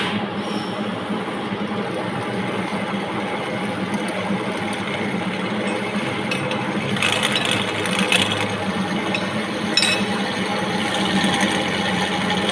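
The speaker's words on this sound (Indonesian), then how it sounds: "kita bor diameter 10 sepanjang 75 dan kita bor lagi diameter 14 sepanjang 50" Drill press boring a 10 mm diameter hole 75 mm deep, a steady motor whine and grinding hum running continuously throughout at moderate loudness, with slightly harsher cutting noise in the later seconds.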